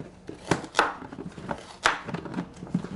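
A knife mincing vegetables on a cutting board gives a loose run of sharp chopping taps, some stronger than others, fairly close.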